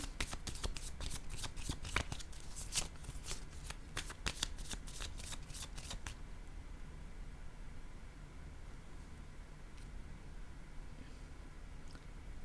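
A deck of cards is riffled in rapid flutters for about six seconds, crisp and close, then only faint background hiss remains.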